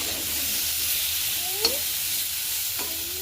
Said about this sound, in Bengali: পটলগুলো একটু ভাজা হয়